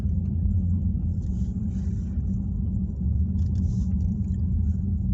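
A muscle car cruising along Main Street in an upstate Vermont town, its engine a steady, loud low rumble throughout with no pauses.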